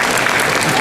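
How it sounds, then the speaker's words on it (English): An audience welcoming a presenter onto a stage with a loud, dense burst of clapping filling the whole moment. "Big applause"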